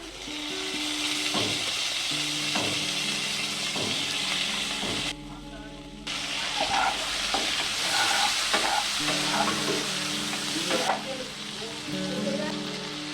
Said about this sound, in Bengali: আলুগুলো এক মিনিট মতো ভেজে নিয়েছি এখন দেব চিংড়ি